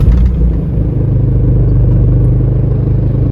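Diesel Jeep Liberty engine running with a steady low rumble and faint clatter, loud and close, with no voices.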